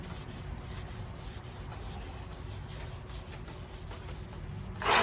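A Scotch-Brite pad scrubs mild surface rust off the front floor pan of a 1989 Mustang in a steady, rhythmic back-and-forth rubbing, fairly faint and close, ending in a brief louder scrape.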